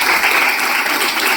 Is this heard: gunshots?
no